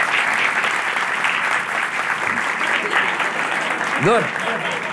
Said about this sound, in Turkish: bir alkışı alalım ya.